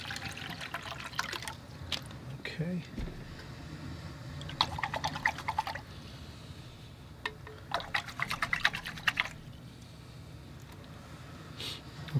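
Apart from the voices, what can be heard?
pouring bottled water to change painting water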